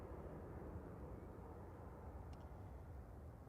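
Airbus A320 Classic jet engines at Manchester Airport give a steady, continuous broadband roar for the whole stretch, fairly distant and even in level, with no talking.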